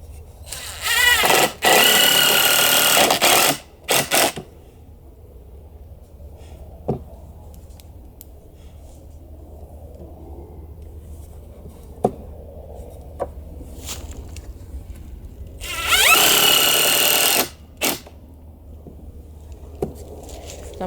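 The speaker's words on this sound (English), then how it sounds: "Now I'm going to put the screws in." A power drill drives 2.5 inch screws into a wooden fish tank stand, with two loud, sustained bursts of whirring a few seconds long separated by quieter handling knocks and clicks.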